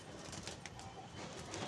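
A flock of pigeons in a pigeon keeper's loft in Lucknow gives soft, low cooing, faint and steady with a few light rustles.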